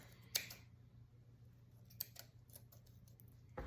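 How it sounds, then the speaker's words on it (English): A few quiet, crisp snips of scissors cutting thread at the bottom of a tassel, spaced apart, close by in an otherwise hushed room. "you're just gonna go through and snip these."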